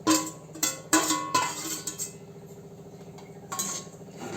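Grated coconut is poured into a metal kadhai, and a spoon clinks and scrapes against the pan in a handful of sharp knocks, with softer rustling scrapes between them. No one speaks.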